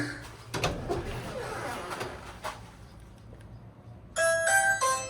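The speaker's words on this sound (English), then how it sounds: "So you can see the doorbell's working." Soft household knocks and rustles, then a bright electronic doorbell chime rings near the end, clear and close.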